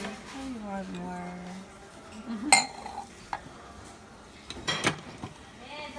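A utensil stirs sugar into a raw chocolate mixture in a bowl, giving scattered clinks and scrapes against the bowl, with a voice speaking near the start.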